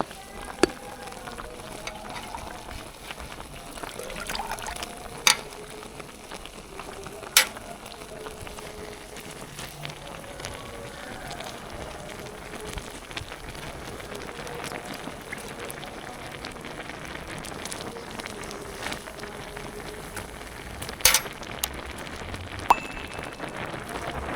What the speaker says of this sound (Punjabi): ਹੁਣ ਸਾਗ ਆਪਣਾ ਰਿੱਝਣ ਵੀ ਲੱਗ ਗਿਆ ਤੇ ਨੀਵਾ ਵੀ ਹੋ ਗਿਆ